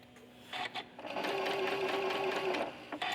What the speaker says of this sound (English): I'm sewing with a 1/4-inch foot that I backstitch at the start and the end.